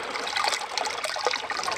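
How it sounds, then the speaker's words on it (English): Water trickles and splashes as it is poured into a rabbit's water container, a short, close, continuous dribble with small gurgling bursts and no talking. "Put a little water up in there."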